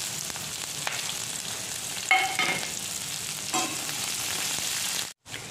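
Onions fry with ginger-garlic paste in a pan for biryani, producing a close, steady sizzle broken by scraping stirs and a few louder spatula knocks, with a short drop near the end.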